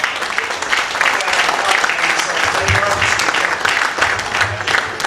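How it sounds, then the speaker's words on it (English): An audience at a South Melbourne FC VIP event applauding as a guest walks to the lectern, a dense, steady burst of clapping up close that carries through the whole stretch. "a warm round of applause for Peter as he comes to the lectern"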